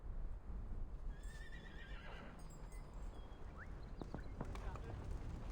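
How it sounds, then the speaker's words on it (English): Dozens of horses in the Reverse 1999 video game, a dense neighing and whinnying chorus echoing from far away over a steady rushing background, with scattered hoof sounds and voices mixed in. "The sound of dozens of horses neighing at once echoes from somewhere far away."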